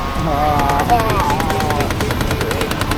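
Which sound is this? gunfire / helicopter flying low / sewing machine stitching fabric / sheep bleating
gunfire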